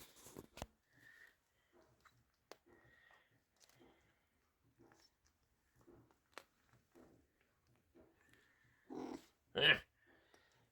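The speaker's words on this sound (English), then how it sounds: "The cat has made another kill, and he is now crunching down." A cat eats a mouse, with faint wet chewing and crunching in quiet bursts, a few soft growls, and a sharper louder sound near the end.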